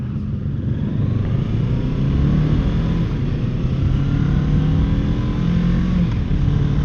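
A Kawasaki Z650 motorcycle rides through city traffic in Bacolod City, Philippines, its engine a steady loud rumble with slight rises in revs, all under constant wind noise.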